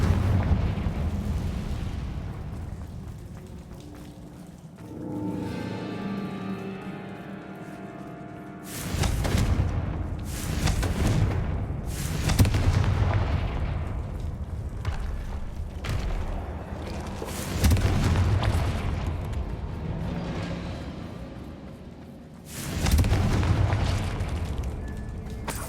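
Confringo spell explosions in Hogwarts Legacy, a series of heavy booming blasts with rumbling tails, several loud bursts spaced across the stretch after a quieter opening with a ringing magical tone.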